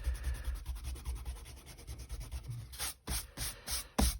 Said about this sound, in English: I'm just going to rub out this little sketch over here because I want to draw over here